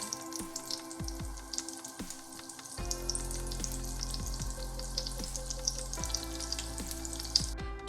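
Cumin, mustard seeds and curry leaves fry in hot oil for an Andhra-style spinach chutney, giving a steady crackling sizzle with scattered pops and a few louder bursts, close and continuous with no talking.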